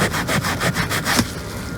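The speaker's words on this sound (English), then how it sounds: "I'm going to use the other side that's a little rougher of this sponge here and attempt to get those out." Rough side of a sponge scrubbed back and forth over leather during cleaning, a steady rhythmic rasping with regular strokes, close and fairly loud, no talking.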